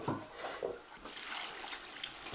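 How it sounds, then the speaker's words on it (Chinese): Cold water is poured over pig skin being washed for a jelly dish. There is a soft splash, then a fuller continuous rush of water filling the container, close by and without speech. "雪儿，给我倒点水。 凉的。"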